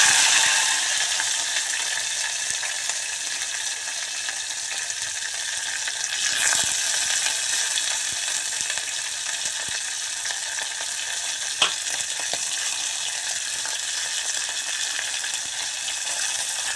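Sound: green chillies frying in pan

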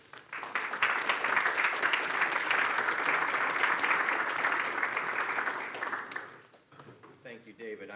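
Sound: audience applause welcoming Dr. Long

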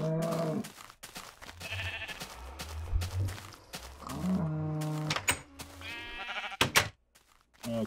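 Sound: sheep bleating in Minecraft video game

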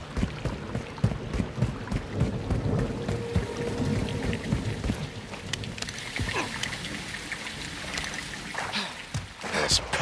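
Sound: heavy rain in Call of Duty: Modern Warfare II video game

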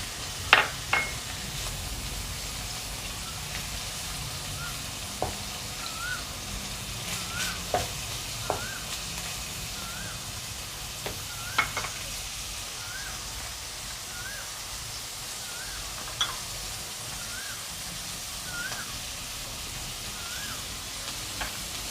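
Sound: shrimp stir-frying in a pan

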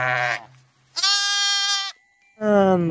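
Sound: sheep bleating in the video game Jurassic World Evolution 2

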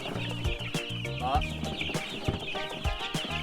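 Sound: chicks peeping while being moved to a farm

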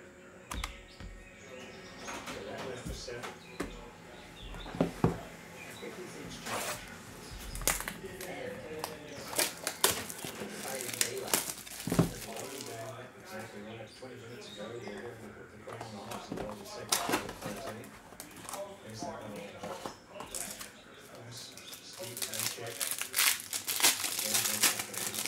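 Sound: tearing open Bowman Chrome trading card packs, crinkling wrappers

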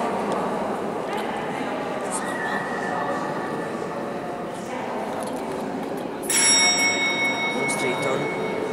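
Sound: bell ringing

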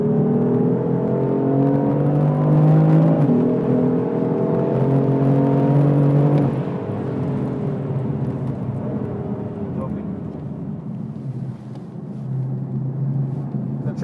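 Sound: BMW car accelerating on a wet track

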